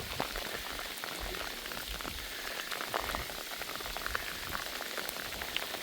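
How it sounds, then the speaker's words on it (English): Heavy rain falling steadily outdoors in northern Saskatchewan, a dense, even hiss of drops pattering on surfaces with no letup and no voices. "She's full-on raining"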